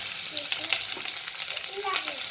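Onion frying in oil in a pot for Egyptian pot kebab, a steady broadband sizzle with faint stirring scrapes and clinks, close and continuous with no talking.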